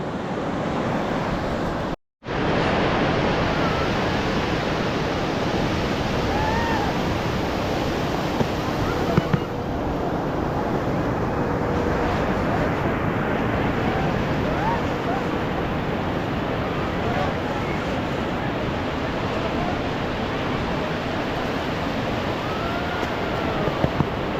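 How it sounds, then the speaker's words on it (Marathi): A steady, loud roar of surf breaking on a beach in Goa, blended with gusty wind buffeting the microphone, continuing without pause. "समुद्र समुद्राचा नजारा"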